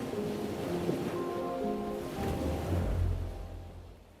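Ocean waves surge and wash in a steady, broad roar that swells louder toward the end, with a low rumbling undertow and faint sustained tones layered over the surf.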